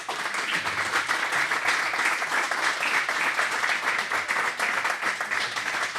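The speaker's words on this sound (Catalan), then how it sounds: "Que aquests aplaudiments són de veritat" Audience applause at a Catalan talk show taping for the gravel cycling event Grava Fayonera 2025, a dense steady wall of many hands clapping for the full stretch, loud and continuous with no break.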